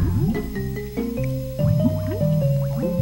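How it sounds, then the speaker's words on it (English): Water level rising in Banjo-Kazooie, a loud run of rising, bubbly gurgling tones that fill and climb in steps, alone with no talking. "Alright, so we raise the water level once more."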